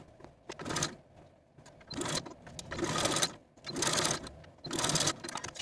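A sewing machine bastes the sleeve head of a velvet dress in several short bursts of rapid stitching with brief gaps between them, close up and without talk.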